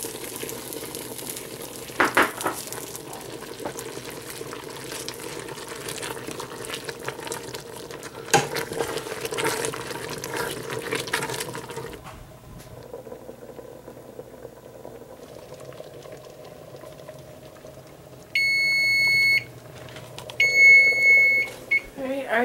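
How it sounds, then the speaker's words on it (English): Razor clams boiling in a pot on a big burner, a steady bubbling and simmering roar through the first half that drops to a quieter simmer, with brief beeping tones near the end. "And we're gonna let it boil for 30 minutes."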